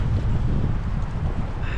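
Steady, loud wind on a mountainside buffeting the microphone, a continuous low rumble with gusty swells throughout.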